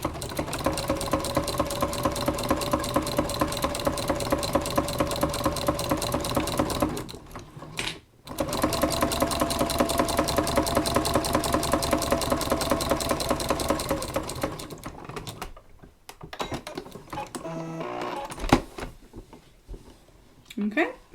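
A sewing machine stitches quilt sashing along a quarter-inch seam in fast, steady, close mechanical bursts, pausing briefly midway, then running again before stopping, with someone talking over and after the stitching.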